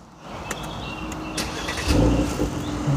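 A few clicks and clunks come first, then a convertible car's engine cranks and catches, settling into a close, muffled idle with no one speaking.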